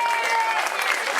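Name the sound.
applause for the race organisers at the podium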